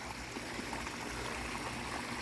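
Water trickles and flows steadily in a backyard pond water garden at night, a soft, continuous babble heard alone.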